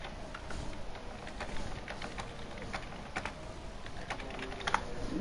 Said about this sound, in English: Sorry if you can hear typing.